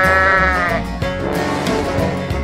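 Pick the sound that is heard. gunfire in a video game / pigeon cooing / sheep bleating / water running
sheep bleating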